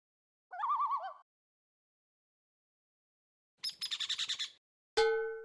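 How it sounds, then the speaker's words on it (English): Three separate bird calls with silence between: a warbling trill, then a rapid chattering series, then a short sharp whistled note. "Listen to each bird call first."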